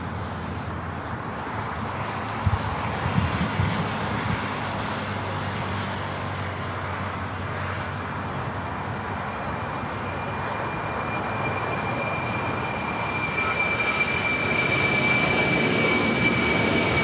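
A Boeing 747-400 freighter, the last one built, rolls down runway 25 left at LAX with a steady, broad jet roar that holds for the whole stretch and swells slightly toward the end, a thin high whine rising late.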